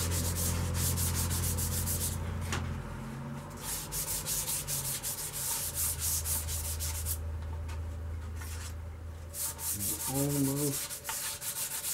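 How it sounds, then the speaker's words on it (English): A green poplar woodturned bowl gets a light sanding with 320 grit paper: quiet, steady rubbing strokes over a low motor hum, with a brief pause partway through. "get everything smoothed up real good. Just a light sanding."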